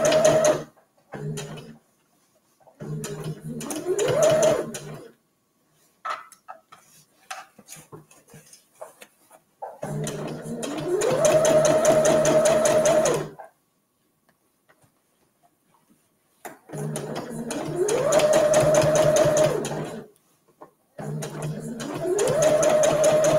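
Sewing machine stitching the side seams of a fabric gift bag, running in several steady mechanical bursts of a few seconds each with quiet pauses between, close and fairly loud.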